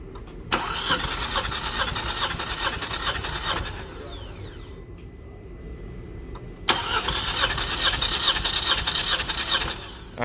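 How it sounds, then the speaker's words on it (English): An engine revs hard at wide open throttle in two loud, sustained bursts, separated by a few seconds of quieter idling and winding down. "After doing the wide open throttle test, we are going to do no throttle."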